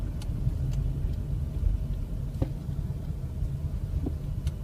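Car engine running in fifth gear while a shift into reverse is attempted, a steady low rumble with faint clicks on top, moderately loud and alone without talk.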